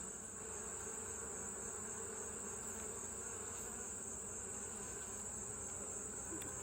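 Honey bees hum in a dense, continuous drone just outside their hive during an inspection, steady and close, with no voices.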